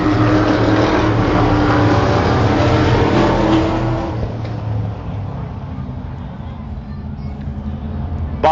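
Stock race cars, a Camaro, Pintos and a Mustang, roar loudly around the Devils Bowl dirt oval, engines droning steadily before easing off as they pass, with a commentator talking over them.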